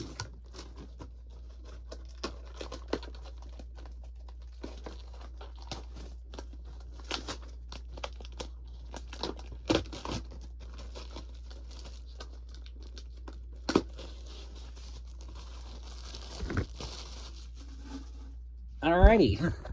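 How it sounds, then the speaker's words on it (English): Thin plastic shrink-wrap sealing a new VHS tape is torn open, giving faint, scattered crinkles and light rips. A voice can be heard at times, and a louder rustle comes near the end. "I can probably just rip right into the rest of this"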